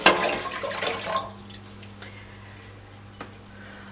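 Tap water pours loudly into a pot while preparing fruit wine mash, then cuts off, leaving a faint steady hum with a brief clink.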